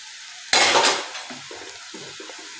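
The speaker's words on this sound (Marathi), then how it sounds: "याला चांगलं मिक्स करून घ्यायचं आहे।" Spatula scraping and clattering in a pan as crumbled chapati and onions are stirred, a sharp loud stroke at first, then softer repeated scrapes and faint sizzling.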